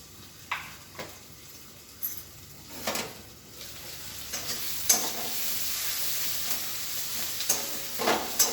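Chopped onion frying in a pan, a steady close sizzle with occasional scrapes and taps of a spatula as it is stirred.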